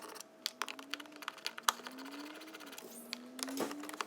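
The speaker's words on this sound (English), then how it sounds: "I'm going to remove 3 screws that hold this black junction box in place." Screws being backed out of a black junction box with a power driver, a whirring motor tone rising in short runs amid close clicks and small metallic taps, quiet, no voices.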